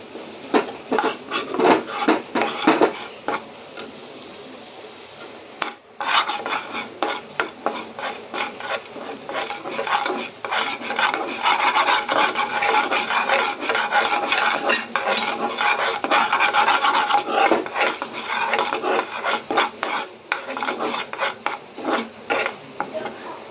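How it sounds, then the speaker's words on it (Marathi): Maida flour roasting in butter in a pan, stirred with a utensil, giving a continuous rasping, scraping rhythm of metal on pan with small clinks, close and fairly loud throughout. "हा मैदा आपल्याला छान या बटर मध्ये असं भाजून घ्यायचा आहे"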